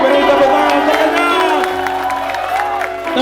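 A concert crowd cheers, whoops and claps loudly and continuously, with a tonal, music-like backdrop running under the roar.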